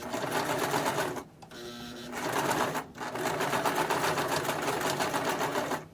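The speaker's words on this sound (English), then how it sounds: "You can hear my machine saying, help!" Sewing machine stitching fabric for a bowl cozy, running in steady loud bursts with two brief pauses between runs, close and alone.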